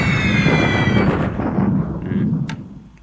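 Small bombs exploding in the War in the Pacific strategy game during an airstrike on an airfield, giving a loud rumbling boom that rolls on and slowly fades, with a brief sharp click near the end.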